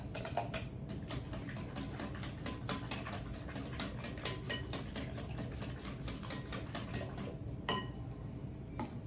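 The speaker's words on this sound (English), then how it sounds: "And you're going to whisk that in." A whisk beats melted butter into pancake batter in a bowl, making rapid, regular clicking taps against the sides. The whisking is quiet and continuous throughout.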